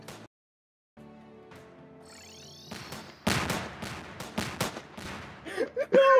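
Gunshots in a Roblox shooting obby game, a quick burst of sharp repeated shots after quiet electronic game tones, followed by louder clipped bursts near the end.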